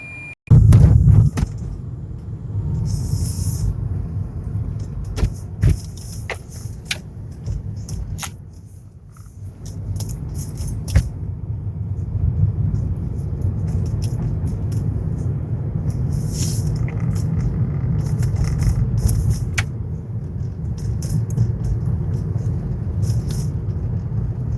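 A car drives through quiet Sunday city streets during the coronavirus outbreak, heard from inside as a steady low engine and road rumble with scattered light rattles and clicks, dipping briefly before picking up again.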